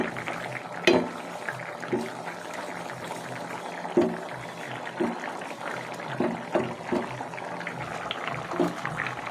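Ladle stirring a simmering curry gravy in a pot, soft bubbling under repeated scraping knocks against the pot every second or so, close and moderate in level, with no talking.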